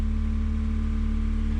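A 1991 Honda Prelude Si engine runs at a high, steady rev with the AC switched on, a loud continuous drone with strong low hum and no break in its pitch.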